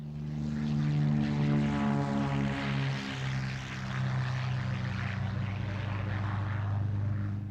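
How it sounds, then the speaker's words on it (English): A Cranfield A1 aerobatic propeller aircraft flying at the 1976 Farnborough air show, its engine giving a loud, steady droning roar that shifts in pitch as it passes overhead, with no talk. "the Cranfield A1. It's the only British aircraft, and one of the few in the world, designed solely for competition aerobatics."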